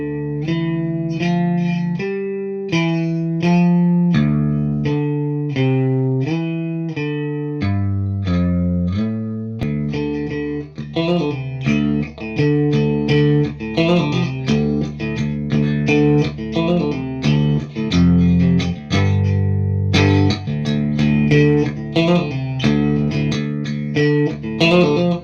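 A 2001 Peavey LTD ST electric guitar plays with both single coil pickups selected, giving clean, even, warm picked notes and chords in a steady melodic line, close up and alone.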